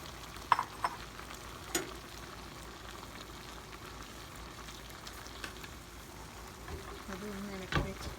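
Ground coconut paste is stirred into avial, a traditional Vishu sadya dish, in a pan, making a low steady simmering sizzle broken by a few faint clinks and scrapes.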